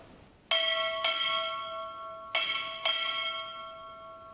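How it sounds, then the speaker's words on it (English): A ship's bell is struck four times at a Navy recruit graduation ceremony, in two spaced pairs of loud, ringing strikes that sustain and decay, with no talking over them. "Strike 4 bell."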